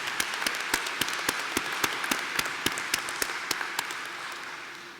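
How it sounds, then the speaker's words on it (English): Sparse, scattered hand claps from a small group at a 2020 law school commencement, individual claps distinct and steady for about five seconds before fading slightly at the end. "Let's give yourselves a round of applause."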